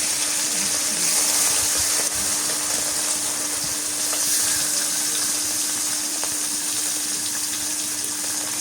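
Fish fries in hot mustard oil in a pan, giving a loud, continuous, even sizzle with no pauses, over a faint steady hum.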